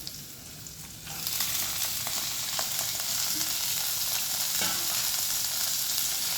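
Potatoes dropped into a pan of hot oil with cumin seeds and curry leaves, fried for a bottle gourd peel dish. A quiet lead-in gives way to a steady, close, bright sizzle that holds to the end, with a few soft stirring clicks and no talking.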